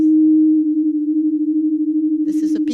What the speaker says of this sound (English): This is a tiny little star, almost, well, only half the solar size, let's say, and it's composed of helium.